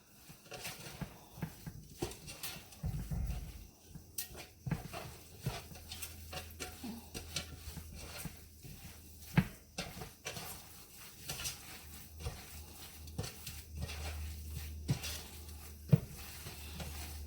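Meatloaf ingredients are mixed lightly by hand in a bowl, giving soft, irregular squishing and patting sounds with occasional small knocks, close and fairly quiet against a faint low background hum.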